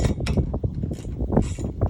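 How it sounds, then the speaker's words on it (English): A ratchet wrench tightens a bracket during an antenna mount installation, giving a close series of quick metallic clicks and clinks in an uneven rhythm. "ratchet wrench."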